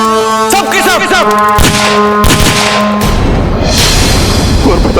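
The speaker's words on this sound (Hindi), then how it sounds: "गोली चलाओ, सबके सब।" A volley of gunfire breaks out on command in a historical battle drama set in Mughal-era India, with several sharp, loud bursts. Dramatic music and shouting voices sound underneath, then the noise settles into a dense, continuous roar.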